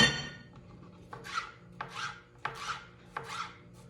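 A ceramic chef knife chops through pepper on a cutting board in five separate crisp strokes, each a sharp crunching slice with brief pauses between, close and clear with no talking.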